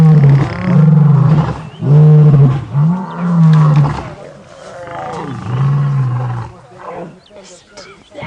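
Male lions roar after a scuffle on a live safari drive: a series of deep, loud, close roaring grunts in rhythmic bursts, fading into lower rumbles, with no speech.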